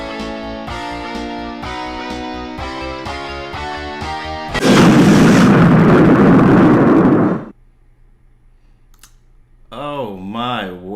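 A loud broadband explosion bursts out for about three seconds after a steady musical passage in a spoofed pop song, then cuts to near silence before a warbling synth tone returns.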